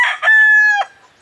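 A fighting rooster crows loudly and close by, one sustained cock-a-doodle-doo beginning with short clucking notes and ending in a tapering tail, with no talking.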